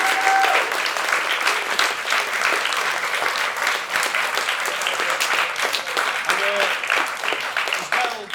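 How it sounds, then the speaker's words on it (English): An audience at a festival gives a sustained round of applause, dense and loud clapping throughout, with a few cheers and voices mixed in. "I just want to give everyone a big round of applause."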